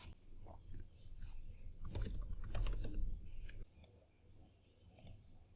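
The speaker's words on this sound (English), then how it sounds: "So I've just typed in a plain simple language." Typing on a computer keyboard while entering a prompt, a quick run of close, clicky keystrokes that bunch into a denser burst midway before thinning out, with no talking.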